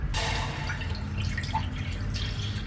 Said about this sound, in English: I just add in a drop of boiling water